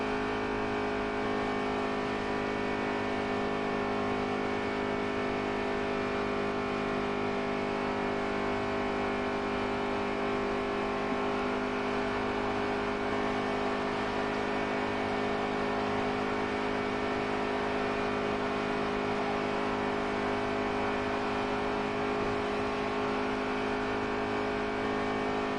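Race car engine in NASCAR Heat 3 on PS4, a steady loud drone held without a break throughout, with no revving peaks and no voices.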